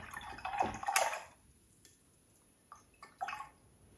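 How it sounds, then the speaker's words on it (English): A paintbrush is swished and rinsed in a water jar during painting, giving a burst of splashing and dripping near the start, then quieter, brief clinks and trickles; close and moderately loud, with no talk. "So I'm gonna rinse my brush out."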